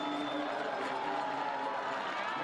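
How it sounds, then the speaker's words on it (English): A crowd in the finish area of a Paralympic snowboarding race cheers in a steady, continuous roar, loud and dense throughout, with no separate voices standing out. "A crowd in the finish area going mad for him"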